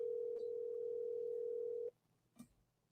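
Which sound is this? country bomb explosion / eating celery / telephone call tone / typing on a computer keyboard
telephone call tone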